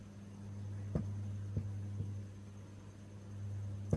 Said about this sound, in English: You can still hear the humming